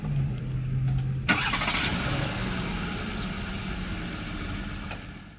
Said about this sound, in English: and then your remote engine start